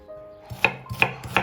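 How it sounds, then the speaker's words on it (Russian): A knife chops pork into small pieces on a board, three crisp, evenly spaced cuts in a quiet kitchen. "Нарезаю мясо на небольшие кусочки, понадобится примерно 500 грамм."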